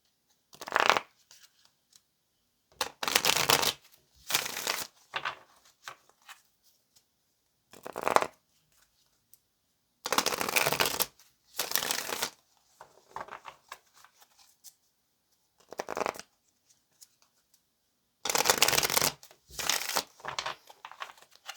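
Tarot cards shuffled in repeated crisp riffling bursts, each a second or two long, separated by pauses, close and fairly soft.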